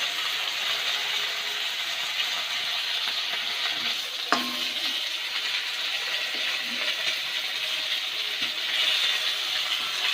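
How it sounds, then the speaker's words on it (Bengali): Potatoes and cauliflower fry in a pan after fish, a continuous close sizzle punctuated by stirring scrapes and one sharp clank of a utensil partway through. "মাছগুলো ভাজার পরে আমি আলু আর কপিটা ভেজে নেব।"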